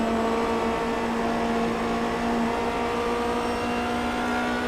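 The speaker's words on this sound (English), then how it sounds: "you'll hear him downshifting and upshifting" Onboard a race car driven by Donald Strout, the engine roars in a loud, steady, close drone with strong harmonic tones, holding a near-constant pitch and only slight shifts in level.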